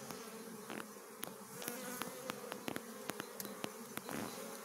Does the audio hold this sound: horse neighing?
no